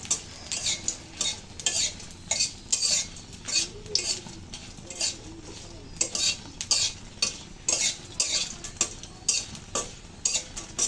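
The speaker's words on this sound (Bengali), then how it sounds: "মরিচগুলো ভালো করে বেঁধে নিয়েছি এখন তুলে নেবো" Chilies fry in hot oil in a pan for ilish fish bharta, a steady sizzle broken by rhythmic, close scraping strokes of a spoon against the pan.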